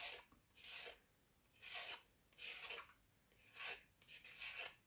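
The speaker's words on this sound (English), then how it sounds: "So just carry on grating them." Carrots rasp against a hand grater for gajar ka halva: about five rhythmic scraping strokes, close and fairly loud, with brief pauses between them and no talking.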